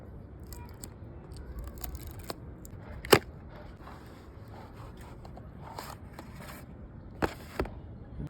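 Unboxing of yellow Realme Buds T310 earbuds: faint rustling and scraping of packaging, with a sharp snap or click partway through and a couple of lighter clicks near the end, close-up and quiet.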